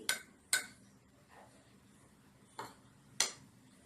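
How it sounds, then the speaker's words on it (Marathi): Dry spice masala of salt and kalonji being mixed for raw mango pickle, with a few sharp spoon-on-bowl clinks spaced apart and light scraping between them, close and fairly quiet. "आता हे सर्व आपण मिक्स करून घ्यायचंय चांगलं."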